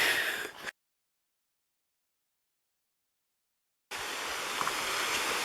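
A spring-fed stream on a trail near Deep Creek waterfalls gives a steady broadband rushing, heard briefly at the start and again near the end, with a long silent gap between.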